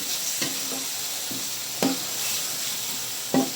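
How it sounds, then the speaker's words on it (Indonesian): Fried tofu and dried rice anchovies being stirred in a pan, a steady close sizzle with a few sharp scraping strokes of the utensil spaced through it, no voices. "Kita campur teri nasi. Terus kita aduk."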